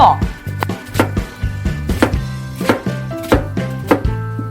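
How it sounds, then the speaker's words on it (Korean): A knife chops onion coarsely on a cutting board for braised mackerel, about a dozen loud, close, evenly paced thunks in steady rhythm with no voice over them. "양파는 굵게 썰어 준비하고"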